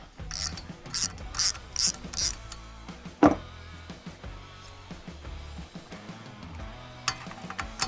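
A ratchet turns out a 3/8 bolt threaded into an engine's spark plug hole, giving a quick series of close clicking pawl strokes, then a sharp metallic clank and quieter mechanical handling sounds.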